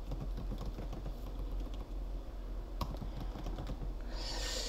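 Keys clatter on a computer keyboard in quick, uneven bursts, close and clear, with a brief louder click partway through and a rush of broadband noise near the end.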